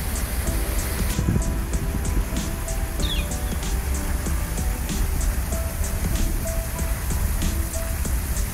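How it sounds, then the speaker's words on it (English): Small waterfalls along a hiking trail near Harpers Ferry on Maryland Heights, a continuous broadband rush of falling water with a faint high ticking pattern over it, steady and fairly close. "There is a really nice set of small waterfalls here."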